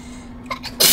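One sharp, loud human sneeze, close to the microphone, with a quick inhale leading into the burst at the end.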